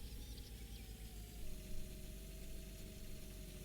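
An articulating tractor engine in Farming Simulator 19 hums steadily at a low idle-like drone, fairly quiet and constant with a slight rise in pitch partway through.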